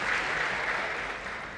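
A crowd at a women's ice hockey gold medal final between France and Canada applauds steadily as an injured player leaves the ice with Team Canada staff, a broad, sustained wash of clapping filling the arena.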